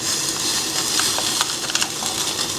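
Cook Do Korean stew bubbling in a pot on high heat: a steady hissing simmer with soft popping bubbles, close and constant, with no voices.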